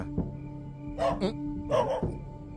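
A dog barks in a Telugu film scene, two short bursts of barking close by over a low steady background hum.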